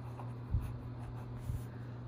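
Pencil writing on paper in a quiet classroom setting, with two soft, brief scratchy strokes over a low steady hum.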